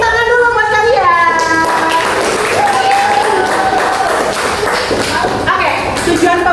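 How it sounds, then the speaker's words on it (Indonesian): A classroom of fifth-grade students clapping for themselves, with loud, dense applause and tapping running throughout under a teacher's voice and children's chatter. "Tepuk tangan dulu buat kalian."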